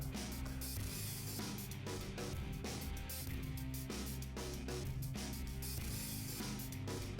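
A ratchet tightens a 12 mm ground bolt into the side of the engine head on a 1990-1991 Mazda Miata. The pawl gives quick, repeated metallic clicks in bursts, close up, with no talking.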